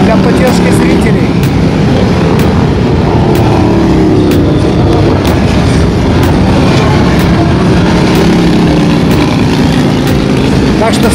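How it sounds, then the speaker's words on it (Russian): A column of motorcycles rides past at a NASCAR race event in Valencia, a dense continuous engine roar and rumble filling the scene with crowd noise mixed in, steady and loud throughout. "Это в качестве анимации запущена целая колонна байкеров для поддержки зрителей."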